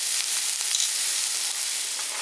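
Chopped onion sizzles steadily in a hot pan while being stirred, a close, continuous bright frying hiss with faint scraping, no voices.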